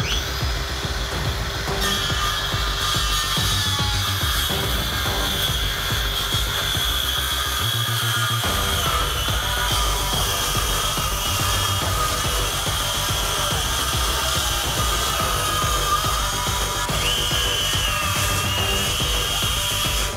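A SKIL circular saw cuts pine strip wood freehand, a loud continuous whining buzz that holds for the whole stretch with only a brief dip in pitch midway.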